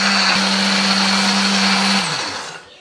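A kitchen blender whirs loudly at a steady high speed, grinding red chili, shallot, turmeric, pepper, coriander and a little water into a spice paste, then spins down and trails off near the end.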